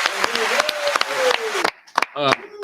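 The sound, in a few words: audience clapping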